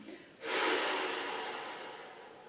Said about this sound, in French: Expiration, relâchement.